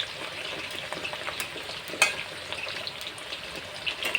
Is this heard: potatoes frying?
yes